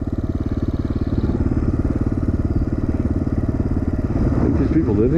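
A kick-started motorcycle engine idles close by, its loud, even, rapid low thump steady throughout with a slight rise in roughness near the end.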